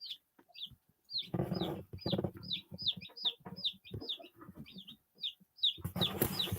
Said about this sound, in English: That's the other chickens. That's the chickens behind.